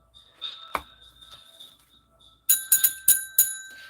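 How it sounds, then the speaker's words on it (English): A small bell rings several times in quick succession, bright and clear with lingering tones, preceded by one earlier isolated strike over a quiet background. "So the bell has rung"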